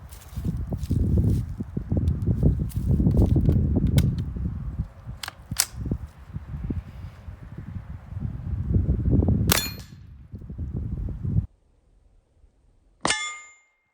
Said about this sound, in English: 50 yards, Bergara, 22 long rifle.